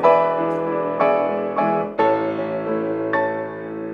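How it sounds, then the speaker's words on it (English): A piano plays a chordal phrase of several sustained, ringing chords; one change comes after a slight dip as the sustain pedal is changed too early, leaving a small gap in the sound. "If I change the pedal before I play the new harmony, I'm going to get a gap in sound like this."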